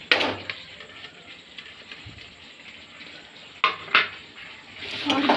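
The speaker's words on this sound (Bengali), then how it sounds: "আলুটা দিয়ে একটু মশলাটা মাখা মাখা করে নিই।" Potatoes are tossed and stirred with spices in a pan for a vegetarian paneer and capsicum dish, with a quiet sizzle under clattering metal spoon scrapes and clanks in bursts.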